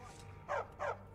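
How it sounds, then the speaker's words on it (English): A dog in the video game Skyrim gives two quick, short barks in a row, moderately near over a low game background hum. "That's not a wolf. That's a dog."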